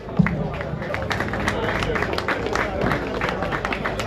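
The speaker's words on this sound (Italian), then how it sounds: "un applauso ancora a Stefano Dassi, a Paolo Mastino" An audience at a Sardinian sports awards ceremony claps steadily through the stretch, dense applause mixed with crowd murmur and people talking over it at close range.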